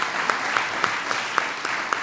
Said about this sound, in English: The reason everybody's applauding is because they've heard him say that every day.